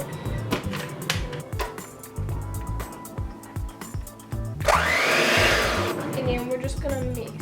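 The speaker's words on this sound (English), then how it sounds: "And then we're just gonna mix" An electric mixer whirs loudly as it mixes pound cake batter, following several seconds of clattering and handling sounds, then running steadily to the end.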